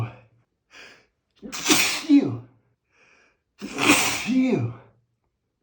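Loud sneezes in a crowded elevator, two big bursts a couple of seconds apart, each preceded by quick gasping intakes of breath, close and clear.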